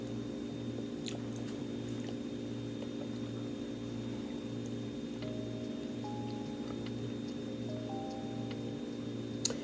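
Close, quiet chewing of caramel flan, soft wet mouth sounds repeating in a steady rhythm over a constant low background hum.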